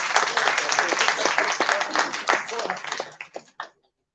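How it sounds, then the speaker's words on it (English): Audience at a formal business-association annual session clapping in a brisk, fairly close burst that tapers into a few last scattered claps and stops. "A big round of applause, please."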